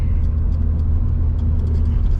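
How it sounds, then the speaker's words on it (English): A small car from 2000 drives along with a low, steady engine rumble and road noise, close and constant inside the cabin. "Great driving little car."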